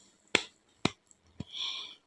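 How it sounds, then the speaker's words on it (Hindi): Sound effect in a Hindi audio drama of clapping outside a temple: three sharp, separate claps about half a second apart, close and crisp, followed by a soft hissing wash. "उसी समय मंदिर के बाहर ताली की आवाज आई।"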